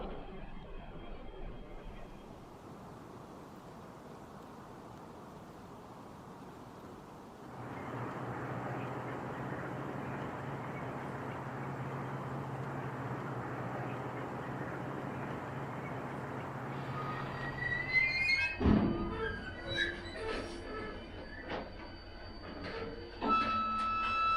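Train with diesel and electric locomotives heard from on board: a steady low rumbling hum that grows louder midway, then clanks, squeals and knocks of rail equipment near the end.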